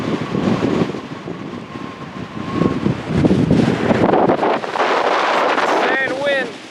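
Strong gusts buffet the microphone in a loud, continuous roar near a lava flow at Craters of the Moon, swelling and dipping throughout, with a brief high chirp near the end.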